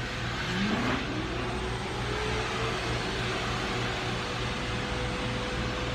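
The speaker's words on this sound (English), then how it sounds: "I'm using the dryer with the lower setting." A dog dryer blowing on its low setting, a steady broadband whoosh with a constant low hum, continuous and close.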